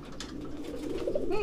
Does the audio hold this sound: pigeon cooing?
yes